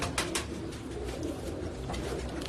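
Domestic pigeons of a bred lineage coo softly and repeatedly in a low, rolling rhythm, close by and moderately quiet, with a faint scratchy background and brief sharp noises at the start.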